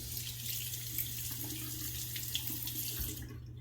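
Water runs steadily from a tap as a razor, stainless steel or bronze, is rinsed under the stream, a constant close hiss with faint clinks, cutting off near the end.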